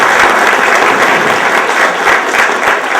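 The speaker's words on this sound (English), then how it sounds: "Give him a preliminary round of applause for being here." Dense, steady applause from an audience welcoming a guest at a talk on Wall Street and the New York economy, loud and continuous for about three seconds with no voices over it.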